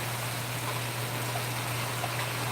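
Heavy rain pours down in a constant dense hiss with no breaks, close and loud, with a low steady hum underneath and no voices.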